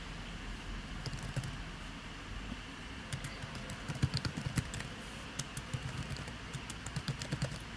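Steady typing on a computer keyboard in the Write or Die writing app, quick irregular key clicks running continuously at moderate distance, a little denser in the second half, with no talking.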